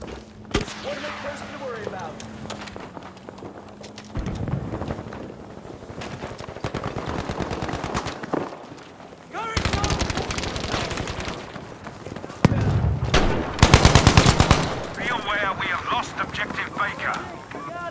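Gunfire in the Battlefield V video game, with bursts of rapid automatic fire and single shots recurring throughout, loud and close, mixed with engine rumble and game sound effects while a player talks.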